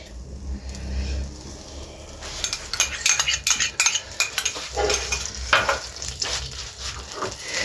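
A metal spoon stirs oil into a mixture in a pot while cooking vegetable kadhi, giving a quiet low bubbling start followed by repeated close scraping clinks and rattles against the pot, with no talking.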